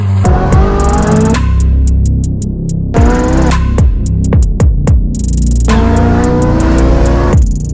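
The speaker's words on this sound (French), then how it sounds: "il s'agit de la Ferrari 458 Speciale avec la ligne IPE." Ferrari 458 Speciale with an IPE exhaust, its engine screaming up through repeated high revs with quick shifts and crackling pops between pulls, loud and close, with no talking.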